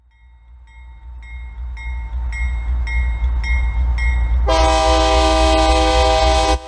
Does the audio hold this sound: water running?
no